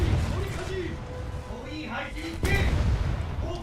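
Naval 5-inch guns firing on a Japanese battleship in a naval combat video game, heard as dull booms and crashes, with one sharp, louder blast partway through, under continuous game noise and a talking voice.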